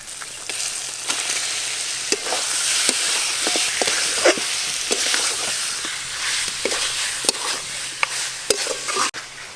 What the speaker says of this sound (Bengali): তুমি এবার চিকেনটা কষো